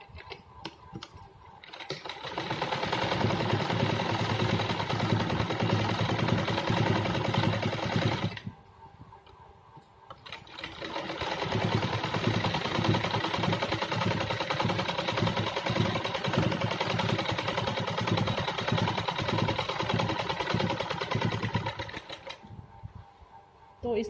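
A sewing machine stitches a folded-in finished hem on a salwar in two long, steady runs of close, rapid needle chatter separated by a brief pause, loud and clear with no talk over it.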